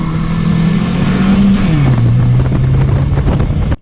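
Racing cars revving hard at the start of an evening heat race, a loud continuous engine roar with shifting pitch and wind buffeting, close to the microphone throughout.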